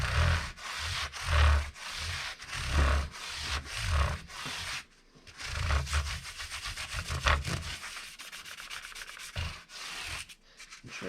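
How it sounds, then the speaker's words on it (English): Guitar frets are polished with 1800 grit abrasive in quick back-and-forth rubbing strokes, a close, scratchy sanding rhythm that pauses briefly midway and then resumes with faster, lighter passes. "The upside is that our frets are going to be polished to an almost stainless steel shine."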